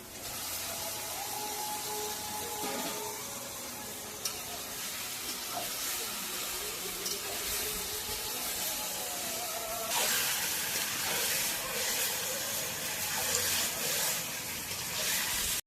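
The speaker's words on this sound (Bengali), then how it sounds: "এখানে আমি আধ ঘন্টার মতো ভালো করে কষছি" Chicken meat slow-fries in a pan as kosha, giving a steady, broad hiss and sizzle that stays close and fairly constant, swelling slightly louder partway through, with faint clinks and background sounds.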